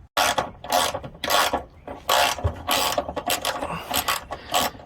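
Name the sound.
removing 12mm bolts from 2021 Toyota Tundra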